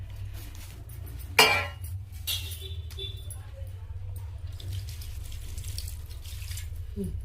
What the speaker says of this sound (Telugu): బెల్లంలో కొద్దిగా నీళ్ళు పోసుకుందాం.